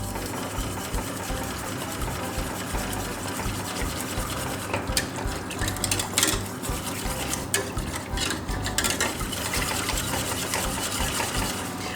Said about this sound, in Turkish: Üzerine de nişastayı ekliyorum. İyice çırpıyorum.